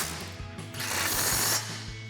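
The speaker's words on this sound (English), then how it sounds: "We'll grab our impact 21mm socket and tighten those two down." An impact wrench with a 21mm socket tightens caliper bolts on a 2004-2020 Ford F-150 front suspension. It gives one short, rattling hammer burst of under a second among quiet clicks, fairly faint and close.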